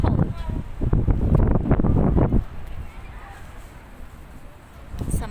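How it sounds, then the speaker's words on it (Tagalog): Strong wind buffets the microphone at a seaside park at night, a loud rushing roar for the first couple of seconds, then settling into a lower steady blow before gusting up again near the end. "It's windy tonight. Windy, so cold."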